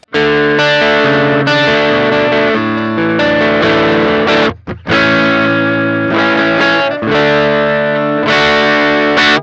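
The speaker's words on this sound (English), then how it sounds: "As we turn that drive control up, we're gonna introduce more distortion or breakup or drive" Heavily distorted electric guitar through a Harby Pedals Noble Tone overdrive pedal plays chords and riffs with thick overdrive, loud and sustained, with one brief pause midway.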